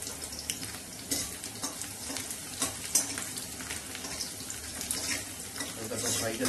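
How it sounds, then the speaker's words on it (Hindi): Garlic, ginger and chili fry in hot mustard oil for a village-style mustard greens dish, giving a steady broadband sizzle with small crackling bursts and faint clinks throughout. "फ्राई करेंगे इसको।"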